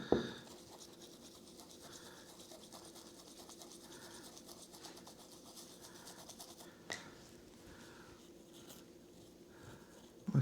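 An old toothbrush scrubs corroded parts from a car's blend door and temperature sensor fans, giving a steady, faint scratchy brushing that runs continuously with a couple of brief louder knocks.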